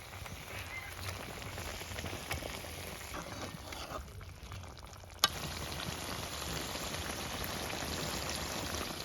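Fried pangas fish goes into boiling tomato masala, giving a steady loud sizzle and bubbling, with a sharp clank partway through as the pan is handled.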